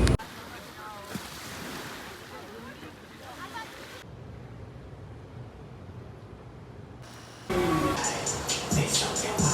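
Surf at a Florida beach, a steady broad wash of waves with wind buffeting the microphone, swelling louder near the end.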